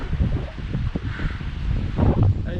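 Wind gusting along a roadside in the Aubrac countryside, a steady low rumbling buffet that swells and eases, close and moderately loud with no voices.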